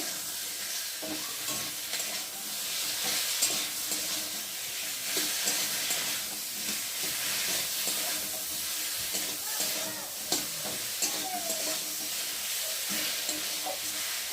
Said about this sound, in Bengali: নুন আর দেবো জিরে বাটা আর আদা বাটা দিয়ে মশলাটাকে ভালো করে কষিয়ে নেব।